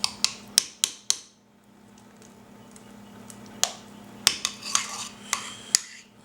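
Yogurt spooned into a bowl while making a lamb burger sauce: a series of sharp clinks of metal on bowl in two clusters, with soft wet scraping in between.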